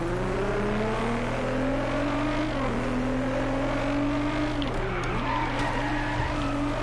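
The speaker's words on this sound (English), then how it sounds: "Oh, that might be my favorite engine sound so far in the game that I've heard." A race car in the driving game DRIVECLUB, engine revving loud and close with rising and falling pitch through gear changes, tires squealing as it corners, continuous for several seconds.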